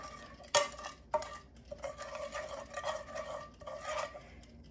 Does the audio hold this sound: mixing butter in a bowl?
yes